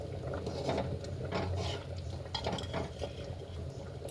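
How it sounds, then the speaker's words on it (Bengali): A spoon stirs prawn khichuri in a metal pot, with repeated scraping and clinking against the sides and faint bubbling, close and fairly quiet with no talking. "যেহেতু খিচুড়ি ভাতগুলো একটু ঘাটা ঘাটা করতে হবে"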